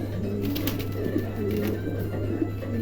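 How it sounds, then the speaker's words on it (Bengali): Pair of red-eyed short-faced pigeons cooing close by, a steady low murmur running through the whole stretch without speech. "এখানে এক জোড়া শর্ট পিস আছে দেখেন লাল টকটকা ঘের দুটো কবুতরে"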